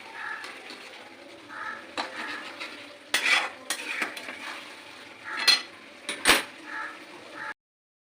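Chicken curry with whole garlic cloves being stirred and fried in a pot, a spoon scraping and clinking against the metal in irregular bursts over a soft sizzle, with no talking.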